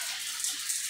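Water from a newly installed shower head runs in a steady, even spray, close and moderately loud, with no voices.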